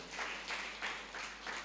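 Congregation clapping in unison during a church service, a faint, rhythmic series of about five evenly spaced hand-clap bursts, somewhat distant.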